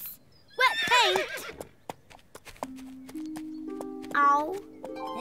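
Cartoon horse neighing, a short whinny amid clip-clop hooves and lively children's cartoon dialogue, with a light musical tone following.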